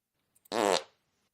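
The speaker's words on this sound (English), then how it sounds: "Where's my fart noise? There it is." A single short fart sound effect played alone, a brief loud burst after two faint clicks.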